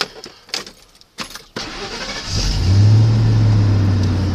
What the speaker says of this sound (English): I'll start her up for you.